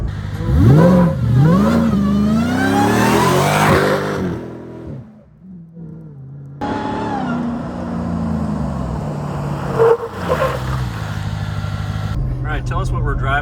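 A modified 2022 Jeep Gladiator Rubicon with a Demon build on Dana 60/80 axles revs hard, its loud engine note sweeping up and down. The engine briefly drops away near the middle, then returns as a steady, close engine roar.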